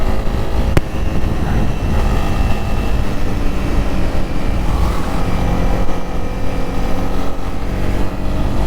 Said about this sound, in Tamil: இதோடைய ஷார்ட்டர் கியர் ரேஷியோவால் வண்டி பயங்கரமாக இதோடைய லோ கியர்ஸில் ஃபுல்லாகுது.